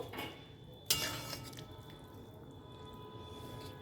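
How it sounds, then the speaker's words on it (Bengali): Katla fish pieces are mixed into a thin, onion- and garlic-free curry in a pot, with one sharp utensil clatter, then soft wet squishing and dripping at low volume. "এবার আমি মাছগুলো মিশিয়ে দেবো"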